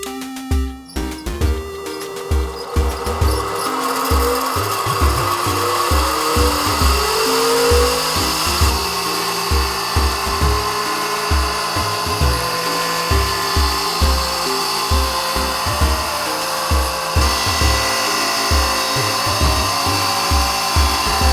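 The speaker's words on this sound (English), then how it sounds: "I'm using this bench grinder, which worked surprisingly well in the past." A bench grinder wears down the wooden rattan grip of a sword with a cup hilt, a constant loud whine close by. The grinding pulses again and again as the wood is pressed to the wheel, with no talk.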